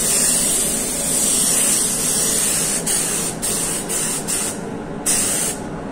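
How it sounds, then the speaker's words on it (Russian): A spray gun lays a light coat of car paint, producing a loud, close, continuous hiss that briefly cuts out several times near the end as the trigger is released and pressed again. "Легеньким таким слоем, уже без залива, распыляем."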